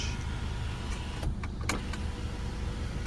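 Electric sun blind of a 2014 BMW 520d gliding along its track, a faint steady motor whir under the cabin hush, broken by a few soft clicks and taps.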